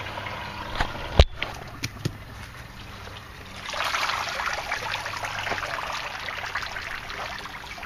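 Water trickles and dribbles steadily through an aquaponics setup once its pump is unplugged, a soft continuous flow after a few sharp clicks and knocks near the start.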